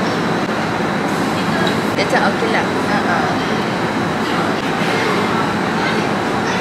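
A train ride carries a steady, loud rumble and rolling rail noise throughout, while a person chats over it.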